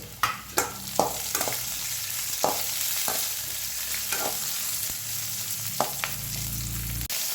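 Cashews and green chillies fry in a pan while jeera rice is being made, giving a steady close sizzle broken by several sharp clatters of stirring with a spoon against the pan.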